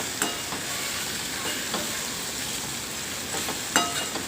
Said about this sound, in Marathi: कांदा परतला गेला की चिरलेले बटाटे टाकून परत परतून घ्या.